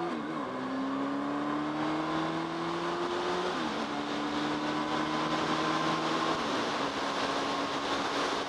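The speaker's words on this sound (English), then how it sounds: "this bike is running like brand new" A Honda 919 motorcycle engine runs close by at a steady idle. Its droning hum is continuous, and the pitch shifts slightly a couple of times.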